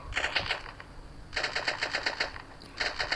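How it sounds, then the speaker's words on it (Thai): Rapid gunfire from shooting enemies in the video game sfg2 comes in three clustered bursts of quick, crackling shots, close and moderately loud, with no voices. "ตอนนี้ผมกำลัง ยิงประหารแถวศัตรูตรงนี้อยู่นะฮะ"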